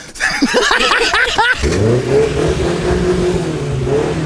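A Suzuki Samurai off-road car engine cranks with rapid stuttering turns, catches, and settles into a loud, steady, slightly wavering idle close by.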